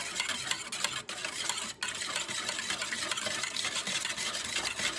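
A utensil works through pancake batter made with eggs and vanilla in a bowl, a soft, continuous scraping swish with a couple of brief pauses, fairly quiet and with no talking.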